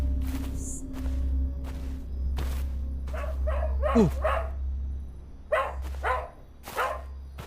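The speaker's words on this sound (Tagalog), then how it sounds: "May aso." A dog barks in several short bursts, fairly close, with a steady low hum running underneath.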